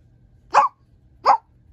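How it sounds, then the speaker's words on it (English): A dog gives two short, sharp barks spaced about a second apart, fairly close, with quiet background between them and no talking. "He's probably just barking at an animal."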